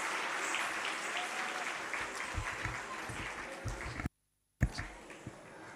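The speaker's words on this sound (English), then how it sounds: "A big round of applause to all the students who have participated in the cultural programs." A school audience applauds students after a cultural program at a Ramakrishna Math institute, a sustained, fairly faint patter of many hands with a brief dropout near the end.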